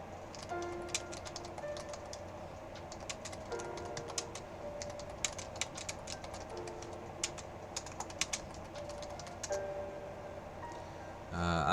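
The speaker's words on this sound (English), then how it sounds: "I'm actually typing in other chats" Computer keyboard typing during a coding session, with steady quick keystrokes and a few louder clacks running throughout at close range, over faint background hum.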